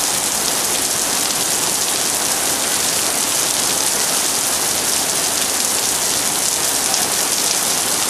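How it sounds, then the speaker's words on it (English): Heavy rain pours down steadily, a dense, loud, continuous hiss of drops striking surfaces at close range with no break and no voices. "it hasn't rained like this since 2005"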